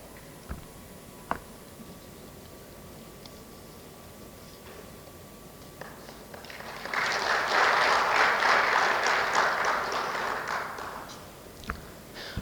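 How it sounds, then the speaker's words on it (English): Audience at an accountancy institute's annual conference inaugural session breaks into applause, a dense burst of clapping lasting several seconds that rises and then fades after a quiet stretch. "A huge round of applause for past Chairman EIRC, CA Nitesh Kumar More"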